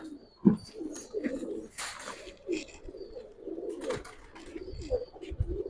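Pigeons kept in a loft coo in soft, low, rolling bursts that overlap repeatedly, close by, with a few sharp clicks and rustles of movement mixed in.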